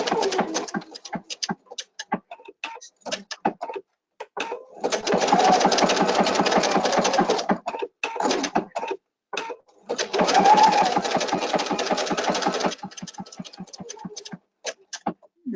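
EPIC 2 sewing machine stitching decorative stitches in rapid mechanical bursts, the needle's fast rhythmic chatter stopping and restarting several times, with softer taps and handling noises in the pauses.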